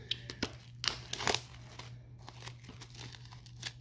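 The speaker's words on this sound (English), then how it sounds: "So I'm going to unwrap this." Plastic shrink wrap is peeled off a 4K UHD Blu-ray steelbook of Heavy Metal, giving close, irregular crinkling and tearing bursts over a low steady hum.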